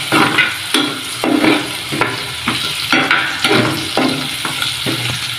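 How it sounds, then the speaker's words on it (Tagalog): A spatula scrapes and stirs ground pork with string beans in a hot pan, about a dozen rhythmic strokes over a constant sizzle, close and loud. "Tapos halu-haluin lang ulit"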